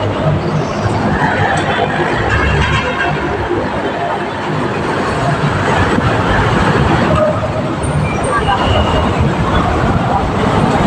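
An LRT light rail train passes nearby with a steady, loud rumble and rush that fills the scene, while people talk over it.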